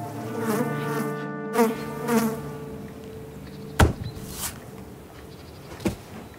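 A fly buzzes close by with a steady droning whine that wavers in pitch, broken by a few sharp thuds and knocks, with no talking.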